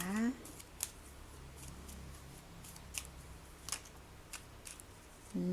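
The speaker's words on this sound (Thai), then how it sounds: "วันนี้สับไพ่ไม่ค่อยถนัดเลยนะทุกคนนะคะ" Tarot cards being shuffled by hand, soft riffling and crisp card snaps at irregular intervals, close and quiet, with brief voice sounds at the start and end.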